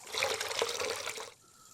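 Water poured out in Gold Mining Simulator 2, a brief close trickling splash that runs for over a second and then cuts off to a faint tail.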